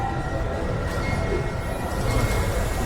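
A seven-car roller coaster train rumbles steadily along its track at a new theme park attraction, a continuous rolling roar with faint wheel squeal, close and loud throughout.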